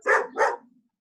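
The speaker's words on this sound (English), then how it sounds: "I love dogs, so hi to whoever's barking." A dog on a video call gives two quick, close barks in succession, the second trailing into a short fade before silence.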